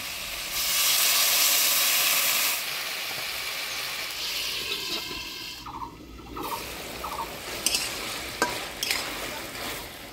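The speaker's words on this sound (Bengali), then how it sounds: "ভিন্ডিটা আমি হলুদ লবণ দিয়ে নাড়াচাড়া করে নিলাম।" Okra tossed with turmeric and salt in a hot pan makes a loud hissing burst at first, which then settles into a softer sizzle with a few scraping stirs and light clinks. No one speaks.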